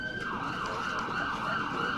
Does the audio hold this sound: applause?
no